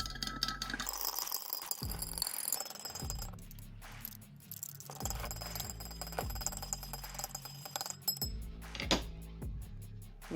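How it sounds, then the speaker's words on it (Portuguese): A spoon stirs salt and sugar into water in a glass container, producing repeated close clinks and rattles against the glass in an irregular rhythm over a faint liquid swirl. "Agora vamos misturar."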